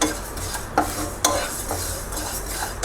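Sesame seeds dry-roasting in a pan for dry fruit and flaxseed laddu, a light rustling hiss with a few sharp spatula taps against the metal, close and steady, no talking.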